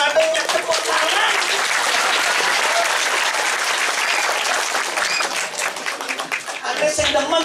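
Sustained applause from an audience at a Balinese Barong performance, dense steady clapping from many hands throughout, loud and close, briefly thinning near the end.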